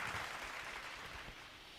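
A church congregation claps together during a Tamil Sunday sermon, a short burst of fairly faint, dense hand clapping heard from a distance that stops quickly.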